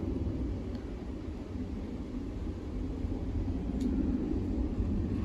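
Passing airplanes send a steady, low, distant roar across an open outdoor setting as strong winds pick up and a shelf cloud moves in, with a broad rumbling wash that holds fairly constant and swells slightly toward the end.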